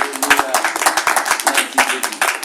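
A church congregation clapping in a steady, rhythmic beat close by, sharp hand claps repeating throughout with voices faintly underneath.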